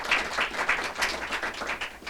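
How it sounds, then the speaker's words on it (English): Audience at a mayor's press conference claps in a brief round of applause, rhythmic bursts of many hands close and fairly loud throughout. "Can we give Patrick and the Community Foundation a round of applause?"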